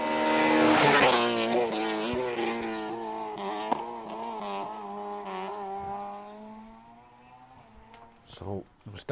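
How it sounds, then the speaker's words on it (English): A rear-wheel-drive Toyota Starlet rally car on a tarmac rally stage near Galway blasts past close by, its engine note loud at first, then holding a long sustained rev that gradually fades with a few final pops. "So it was Daniel and David Dunn there, rear wheel drive starlet."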